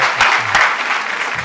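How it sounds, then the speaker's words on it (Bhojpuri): An audience gives loud, close applause for a poem at a Bhojpuri poetry event, a brief dense burst of clapping with no talk over it. "एक कविता खाती जोरदार ताली होती"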